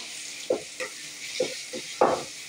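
Ground masala and bay leaves frying in a pan, a low hiss under a few distinct scraping spoon strokes spaced about half a second apart, the last one loudest.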